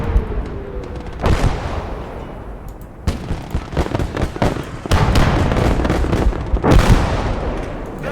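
Heavy cannon shots from a StuG assault gun in a World War II strategy video game, several loud booming blasts with sharp onsets and long rumbling tails, spaced a couple of seconds apart amid ongoing battle noise.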